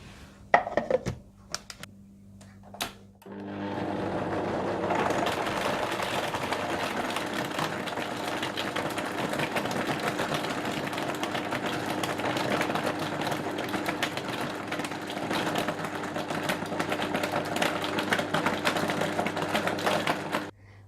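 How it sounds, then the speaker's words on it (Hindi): A blender whirs steadily, mixing mango, banana, ice, vanilla essence and caster sugar into a smoothie, starting after a few brief clatters and then running loud and continuous to the end. "बर्फ, वनीला एसेंस और कैस्टर शुगर डालकर अच्छी तरह से ब्लेंड कर लें।"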